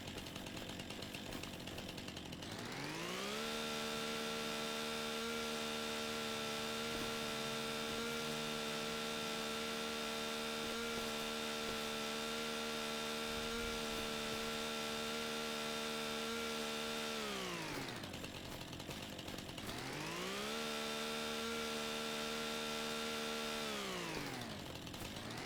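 A chainsaw in the video game Farming Simulator 25 drones steadily, revving up, holding a sustained buzzing whine for many seconds, dropping briefly, then revving up again; mechanical and continuous with no talk.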